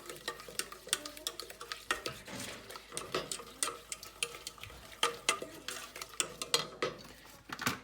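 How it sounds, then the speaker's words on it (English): Cookie dough with vanilla and egg being stirred in a bowl, a spoon scraping and clinking against the sides in a steady run of close, fairly quiet strokes. "get everything mixed up nicely"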